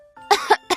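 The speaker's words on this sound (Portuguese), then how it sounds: "A flor tossiu." Three short, throaty coughs in quick succession, close and fairly loud, with a brief breath before them.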